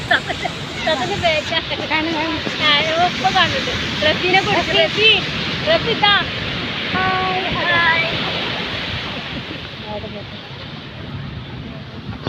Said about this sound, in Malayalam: കണ്ടോ കടലിൻ്റെ തിരമാലകൾ കണ്ടോ?